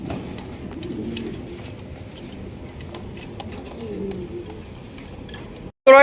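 Fancy racer and Giribaz pigeons coo softly in repeated low, throaty phrases close by, with faint rustling around them, before a sudden brief cutout and a loud burst at the very end.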